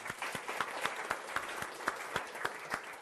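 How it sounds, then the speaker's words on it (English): Applause from an audience at a World Book Day author event, steady clapping with sharp individual claps standing out, sustained throughout without voices. "I think Tom deserves a big round of applause, doesn't he, everyone?"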